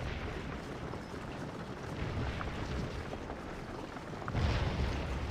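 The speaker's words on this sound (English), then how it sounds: "Little canister goes out there" Cannon firing canister shot in the 7 Days Around Richmond mod, heard as a dense, continuous rumble of distant battle with a heavier booming swell near the end.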